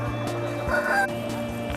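Poultry clucking and calling at a busy livestock market where guinea fowl, country chickens and turkeys are kept, a steady mix of bird sounds with no clear speech over a low background hum.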